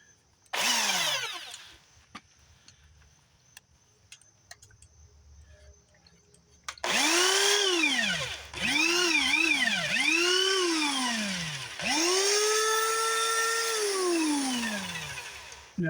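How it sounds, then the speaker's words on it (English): A smaller electric drill running in reverse on an old Evinrude outboard, with short bursts at first, then several loud whining spin-ups that rise and fall in pitch, close by and without talk. "I got a smaller drill reverse"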